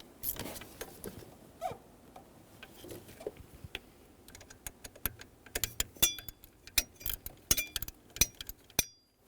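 Bolts being snugged down on the flexible steering column coupler of a 2011-2014 Hyundai Sonata, heard as a run of sharp metallic clicks and ratcheting taps that grow denser and louder toward the end, with no talk.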